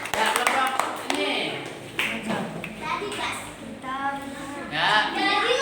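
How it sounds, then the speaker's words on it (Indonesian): A classroom of children claps for a group of classmates, a quick burst of brisk clapping up front followed by scattered claps mixed with lively children's chatter and a teacher's voice. "Tepuk tangan untuk kelompok."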